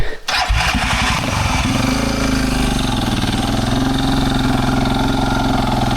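Motorcycles on a steep, rough side track during a Cape York off-road trip in Australia, an engine revving hard and steadily, loud and close, with sustained throttle after a brief start.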